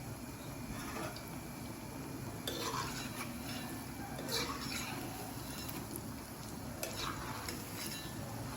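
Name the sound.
paneer masala sakkarpara frying in oil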